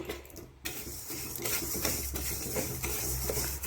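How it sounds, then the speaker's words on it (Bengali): Dry mung dal lentils roasting in a hot dry wok, stirred steadily with a utensil, producing close, continuous scraping and rattling with soft hiss and repeated clinks of metal against the pan. "শুকনো কড়াইতে ডালটা আগে ভেজে নেব।"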